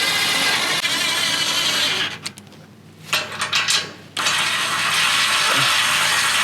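Impact socket driving bolts on Ironman 4x4 underbody protection fitted to a RAM 1500 DT, a loud continuous mechanical whirring and rattling that drops away briefly and returns in short bursts before running steadily again.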